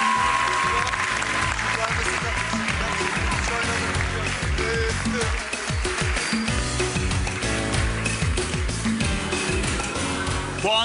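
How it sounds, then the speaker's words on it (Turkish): A studio audience at a televised dance competition applauds continuously, the clapping blended with loud music playing underneath. "Çok Eda Taşpınar'ı alkışlarla Kırmızı Oda'ya uğurluyoruz"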